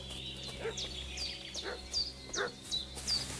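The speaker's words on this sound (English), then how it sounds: "What's that dog making such a fuss about?" A dog barks repeatedly in a video game, a steady string of distant, faint yelps spaced about half a second apart over a low hum of background ambience.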